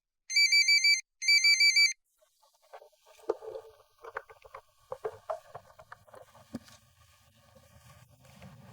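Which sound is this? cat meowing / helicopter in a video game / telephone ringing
telephone ringing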